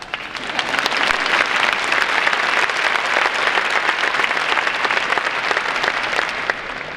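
Steady, full applause from a large graduation audience in a high school ceremony, many hands clapping continuously for several seconds, rising slightly then easing off.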